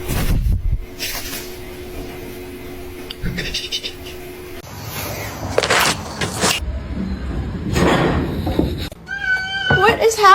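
A house cat gives several meows, the loudest and most drawn-out ones near the end, heard between stretches of talking and scattered clicks and rustles.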